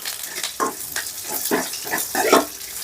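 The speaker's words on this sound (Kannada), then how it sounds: "ಇವಾಗ ಬೆಳ್ಳುಳ್ಳಿ ಮತ್ತು ಕರ್ಬೇವಿನ ಸೊಪ್ಪು ಹಾಕೊಳ್ಳೋಣ" Garlic and curry leaves hit hot oil with mustard seeds, giving a close, crackling sizzle with sharp spitting pops scattered throughout.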